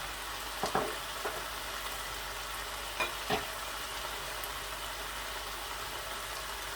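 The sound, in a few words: minced meat and bell pepper frying in a pan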